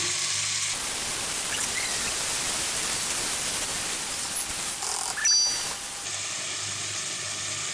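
Yogurt frying with mutton for yakhni pulao gives off a steady, close hiss and sizzle that runs evenly for several seconds, with no one talking over it.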